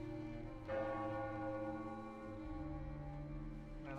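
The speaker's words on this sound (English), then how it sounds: "War bells." Bells ring out in a naval sailing-ship video game, a dense, sustained peal of overlapping tolls with a fresh strike near the start and another swelling at the end, with no talking.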